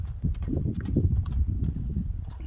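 A horse's hooves clip-clop in a quick, steady rhythm close by, with a dense, thudding beat on the ground and no voices over it.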